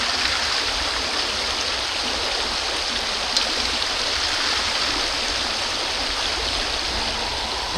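Gravel and water rush steadily down a gold panning sluice on a Scottish stream, a continuous close hiss of flowing water with no pauses and no voices.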